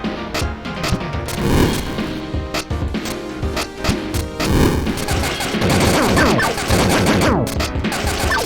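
Rapid gunfire and crashing blasts from shooting blocks in a Sonic video game, dense and loud with overlapping bursts and smashes forming a chaotic, continuous barrage.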